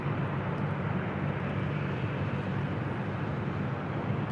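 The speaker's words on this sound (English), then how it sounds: "Our next arrival is Delta Airlines flight 912 coming in from Orlando, Florida in an A321neo." A Delta Airlines A321neo airliner arriving at LAX produces a steady, broad jet roar that stays constant and fairly distant, with no speech over it.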